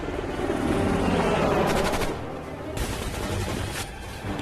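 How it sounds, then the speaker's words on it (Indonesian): Rapid gunfire from a helicopter bursts over a low helicopter rumble, loud and dense, easing slightly midway before sharp shots resume. "sebuah heli datang lalu tiba-tiba kemudian menghujani mereka dengan tembakan"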